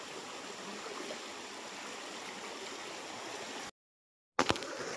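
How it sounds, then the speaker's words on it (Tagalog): A small river on a farm lot flows with a steady rushing, gurgling sound. It cuts out briefly, then returns with a few clattering knocks near the end. "Yan po yung kanyang pinaka-ilog."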